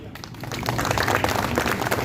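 Crowd clapping at a local road and drainage development ceremony in a Delhi colony, a short burst of scattered applause that builds in volume, with a voice faintly underneath.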